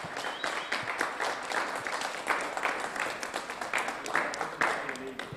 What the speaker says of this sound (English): A round of applause for Matt Richards.